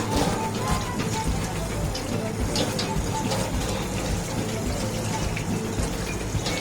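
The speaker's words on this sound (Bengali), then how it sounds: "আমরা মাছটা ধুয়ে ফেলতেছি।" Tap water runs steadily over a big coral fish as it is washed before filleting, a continuous close splashing wash that holds the same level throughout.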